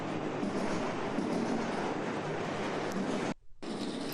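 A train rolls past close by with a loud, continuous rumble and rattle of wheels, broken by a brief drop to near silence just before the end.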